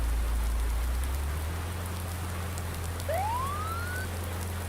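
A police ATV siren in Farming Simulator 19 gives a short rising wail partway through, fairly faint against a steady rain-like hiss and a low constant hum.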